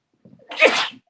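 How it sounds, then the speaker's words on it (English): A single close human sneeze, a short indrawn build-up followed by a sharp explosive burst, alone in a quiet room. "I'm going to sneeze again."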